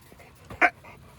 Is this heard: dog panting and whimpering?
yes